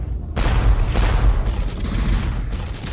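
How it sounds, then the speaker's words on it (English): Cannon fire in a fantasy war battle: a heavy, sustained booming blast that erupts after a brief quiet and rumbles on loudly, with crackling, fusillade-like bursts layered through it. "Your cannon is so powerful."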